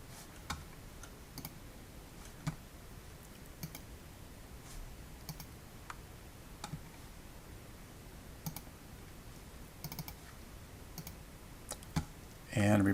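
Scattered mouse clicks in business software, sharp and faint, land at irregular intervals over a quiet background, ending with a louder thump.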